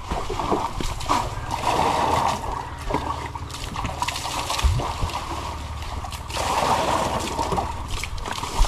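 Water splashing and sloshing as a person bathes in long pants at an outdoor pump tank, irregular splashes mixed with wind noise over the microphone.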